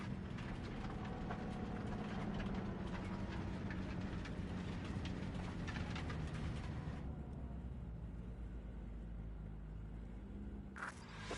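A train rolls along its rails in Cyberpunk 2077: a steady, heavy low rumble with a continuous rolling drone and clatter that thins out partway through.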